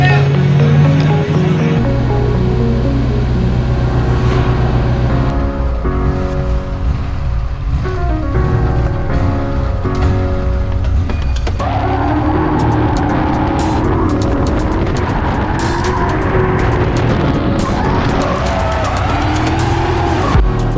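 Drift car on the Calmont circuit revving hard, its engine roaring continuously while tires squeal and skid through the run, loud and close throughout with a screeching, wavering tone in the second half.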